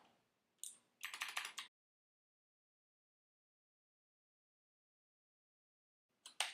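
Bursts of typing on a computer keyboard while configuring a FreeBSD system: a short flurry of rapid clicks, a longer dense run of keystrokes, then a few more clicks after a long silence, close and fairly loud.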